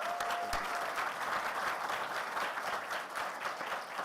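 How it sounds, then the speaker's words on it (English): A conference audience at a security event's closing session gives a short, steady round of applause, a dense wash of many hands clapping at moderate distance without any standout voices. "Actually, round of applause for Sessionize if they're watching."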